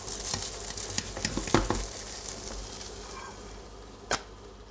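Pancake frying in butter in a pan, a soft steady sizzle with scattered clicks and taps from utensils and the pan, plus one sharper tap near the end.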